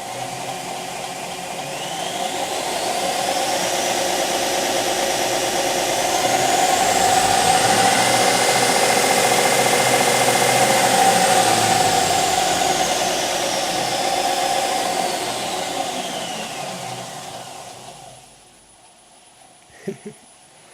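Restored Delta disc/belt sander running on a VFD, its whine rising in pitch as the speed climbs, holding a loud steady high hum, then winding down and fading near the end before a couple of light knocks.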